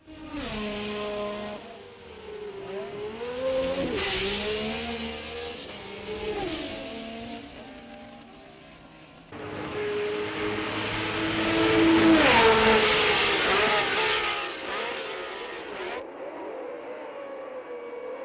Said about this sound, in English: 26 cars roared off at the start of the 43rd Italian Grand Prix, with Fittipaldi needing only to finish 4th